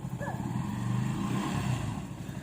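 A motorcycle engine putters and pulls away as the clutch is let out, a close, steady low rumble with a slight rise in revs.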